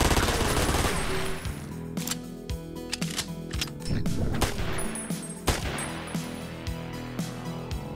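A MAC submachine gun fires 9mm rounds in the video game Ashes 2063, loud sharp rapid bursts and single shots rattling close over background game music.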